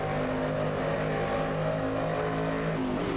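Corvette DP race car engine heard from inside the cockpit in a racing video game, a loud steady droning roar with shifting engine tones and no break.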